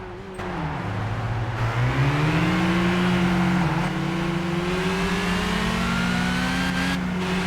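Race car engines in Gran Turismo 5, a loud, close engine droning steadily while it shifts and climbs in pitch through the gears, with other cars whining faintly in the background.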